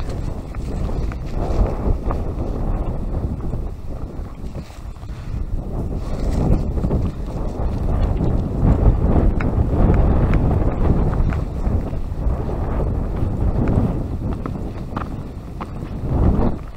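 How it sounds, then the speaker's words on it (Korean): Strong wind buffets the microphone outdoors at a temple, a loud continuous rumbling roar that swells and eases over about seventeen seconds with no voices. "바람 부는 게 장난이 아닌데."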